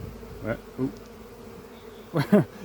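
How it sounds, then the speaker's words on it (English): Honey bees from a hived swarm of about 20,000, at a national hive: a low steady hum runs under a few close, louder buzzing bursts as individual bees pass near. "You can already hear the pitch changing, can't you, in the humming"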